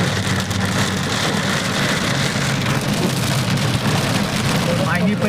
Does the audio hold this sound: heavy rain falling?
yes